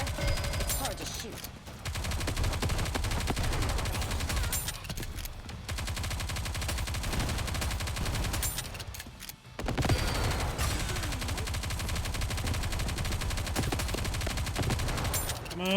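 Sustained rapid gunfire from the game Nikke: Goddess of Victory, dense bursts of shots continuing almost without pause, with music and voices running underneath.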